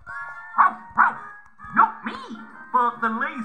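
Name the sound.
voice imitating dog bark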